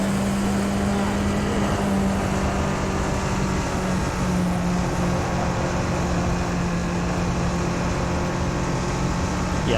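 Tatuus race car engine in rFactor 2, a steady, flat, droning tone held throughout with faint voice underneath.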